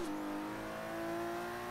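A 1981 BMW M1 in Forza Horizon 3 holds a steady, sustained engine tone, a smooth continuous drone with a slight pitch shift near the start and no talking.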